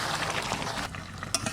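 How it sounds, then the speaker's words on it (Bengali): Chicken curry with raw mango and kasundi being stirred in a pot with the lid lifted, a steady close simmering hiss with soft scraping and a brief utensil clink near the end. "এবার ঢাকনাটা তুলে নাড়াচাড়া দেবো ভালো করে"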